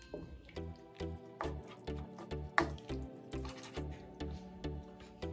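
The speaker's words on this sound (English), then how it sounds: "We'll mix this in." Parmesan cheese is stirred into a simmering shrimp rasta pasta sauce, giving a faint, rhythmic wet slosh roughly twice a second, soft and close.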